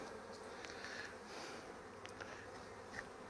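Honeybees buzz around an open hive during an inspection, a faint, continuous hum with a few individual bees passing close, and no talking.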